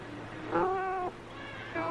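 A pet cat sitting in a person's lap gives two clear meows, the first drawn out and the second starting near the end, fairly quiet and close against a faint background hum.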